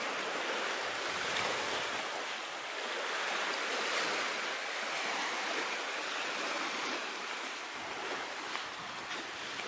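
Ocean surf on a white-sand beach on a Maldives island in Gaafu Alifu Atoll: a continuous wash of breaking waves that swells and eases, with no voices.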